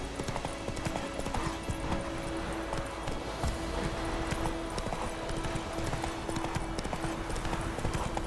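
Roach the horse galloping in The Witcher 3, a fast steady run of hoofbeats with continuous clip-clop over an outdoor game ambience, with brief voices in the background.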